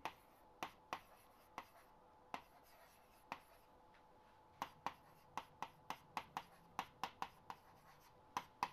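Marker or chalk strokes on a board while an engineering lecture formula is written, a quiet series of sharp taps and short scrapes in irregular bursts, close and alone without talk.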